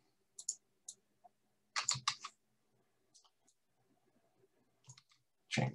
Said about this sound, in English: double click on the button